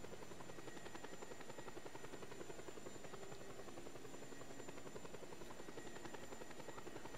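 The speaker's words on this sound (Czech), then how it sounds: "Kde tady byli ty vrtulníci?" Helicopter rotor in the video game Just Cause 2, a continuous fast chopping whir with a steady engine buzz, constant and moderately loud throughout with no voices.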